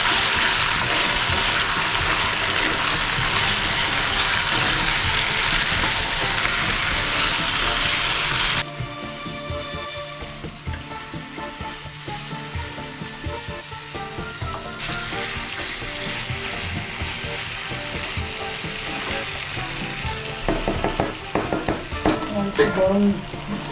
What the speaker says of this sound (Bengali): গরম গরম জল একটু দিয়ে দিয়ে মশলাটা কষিয়ে নেব।